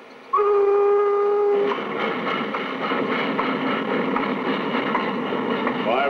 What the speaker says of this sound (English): engine WF64 rumbles out of Nelson Station up the first Bishopdale incline